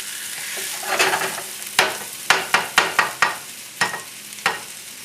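An egg omelet cooks in a lightly oiled pan over low flame, with a soft sizzle beneath a series of crisp spatula taps and scrapes, close up and with no voices.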